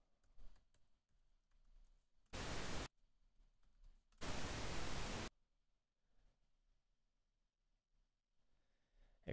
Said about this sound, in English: Should have two channels of pink noise.